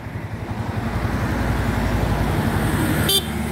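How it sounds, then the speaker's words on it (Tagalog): A Yamaha R15 V4 motorcycle engine hums steadily, then a short, sharp toot from its stock horn sounds near the end before cutting off. "nagkabit tayo mga bro ng stock horn"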